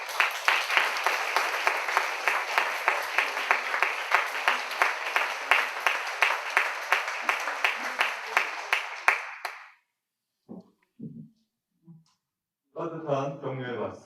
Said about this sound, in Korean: 우리 따뜻한 우리 격려의 박수로 박수하면서 맞이하겠습니다